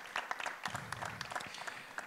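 A round-table audience at a French tourism discussion gives quiet, scattered applause, with individual claps picking out across a soft, distant patter for about two seconds.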